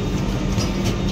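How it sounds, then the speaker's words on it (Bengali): A train pulling out of Santragachi platform 2, heard from inside a first-class AC coach, gives a steady low rumble with a faint rolling rattle and no talk. "এই আমাদের ট্রেন ছেড়ে দিল সাঁতরাগাছি 2 নম্বর প্ল্যাটফর্ম থেকে"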